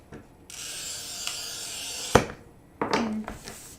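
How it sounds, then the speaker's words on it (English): Carbide wheel glass cutter scoring a sheet of glass, a smooth, quieter hiss running for a couple of seconds, broken by sharp clicks and taps, heard up close. "Now let's roll a carbide wheel."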